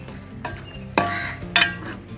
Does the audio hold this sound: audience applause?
no